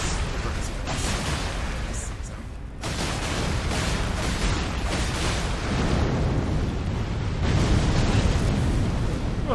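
Roaring fire effects in Elden Ring Shadow of the Erdtree, a furnace golem battle, with loud rumbling eruptive bursts and booming blasts filling the whole stretch, while a voice talks intermittently over the din.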